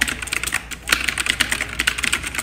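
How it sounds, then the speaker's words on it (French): A mechanical RGB gaming keyboard clacks under rapid, close typing, crisp keystrokes in uneven bursts with a short pause midway and no voice. "les gens qui avaient les vieux claviers beige, là, des 486 ou de Pentium 1, là, en 2000, vous allez reconnaître ce son."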